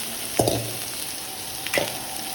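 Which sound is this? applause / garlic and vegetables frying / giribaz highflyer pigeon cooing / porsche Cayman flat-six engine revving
garlic and vegetables frying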